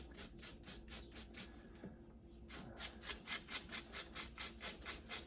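A tool scrapes debris out of the gullets of a chainsaw chain in rhythmic, evenly spaced rasping strokes, close and moderately loud, with a brief pause partway through before the strokes resume.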